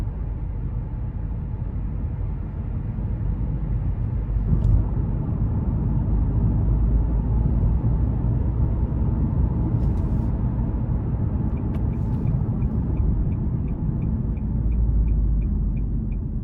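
Steady low road and engine rumble fills the cabin of a 2021 Nissan Kicks SR cruising along, even and unbroken throughout with a few faint high ticks and no talk.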